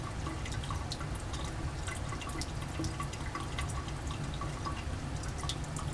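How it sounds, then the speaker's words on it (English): Faint, steady drips of liquid falling roughly once a second from a laboratory addition funnel during a Grignard reaction, over a low constant hum, with no talking. "I've raised the drip rate to about a drop every second."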